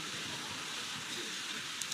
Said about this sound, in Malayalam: മഴ നിന്നില്ലെന്നോ?